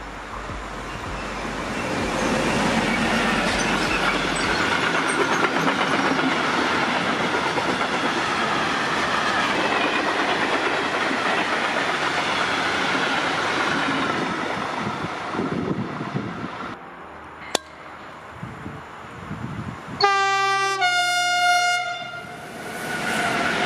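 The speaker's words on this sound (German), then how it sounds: "da nähert sich ein weiterer Güterzug" Freight train rolling past on the left Rhine line near Sinzig, a long loud rumble and wheel clatter with wind buffeting, fading out before a high, tonal horn-like squeal near the end.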